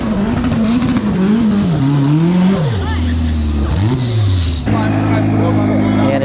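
Loud race car engine revving with gear changes and tire noise at a concrete quarter-mile drag strip where a Tesla Plaid lines up against a Nissan 240SX, engine pitch climbing and dropping close by as a voice talks over it.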